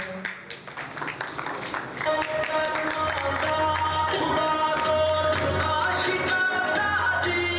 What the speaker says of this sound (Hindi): खड़े होकर उनका तालियों से इस्तकबाल किया जाए।